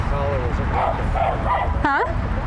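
Dogs at an off-leash park in Costa Mesa give yips and whimpering barks, with one sharp bark near the end, while a trainer speaks over them.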